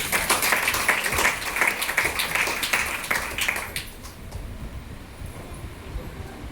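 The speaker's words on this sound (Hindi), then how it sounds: "अगर बहन के लिए भी ताली होनी चाहिए" The audience at a business meeting in a Patna branch applauds loudly and thickly for a few seconds, then the clapping drops away to a quieter, sparse room tone.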